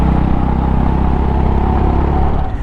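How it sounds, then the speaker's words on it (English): A Honda CB350 cruiser motorcycle idling close by, with a steady, loud, low rumbling exhaust note that settles slightly at the end. "Love that exhaust note, man."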